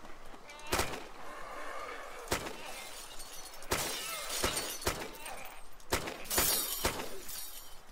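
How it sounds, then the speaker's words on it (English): Glass shatters under gunfire in the shooter game Scoper, sharp repeated shots and crashing breaks spread over several seconds, with tinkling debris and a talking voice underneath. "I'm gonna shoot up the glass."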